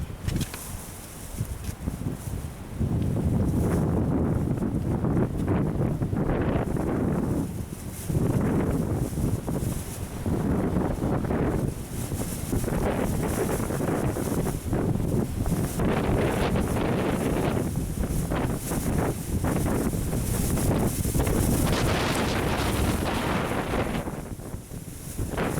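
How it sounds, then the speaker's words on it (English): Strong wind buffets an outdoor microphone in steady, roaring gusts that continue almost unbroken, rising and falling in loudness with no other clear sound standing out. "it's rather windy."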